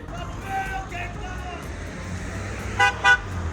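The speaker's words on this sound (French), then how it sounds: "il y a un peu trop de klaxons" Two short car horn toots sound near the end over a low hum of roundabout traffic, with quieter honks faintly earlier.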